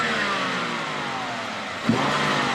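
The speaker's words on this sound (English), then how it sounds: "Rev the engine and see how it sounds so you guys can hear it." A BMW 5 Series 535 engine revs up close, its tone climbing and falling steadily before a short bump near the end, with no talking.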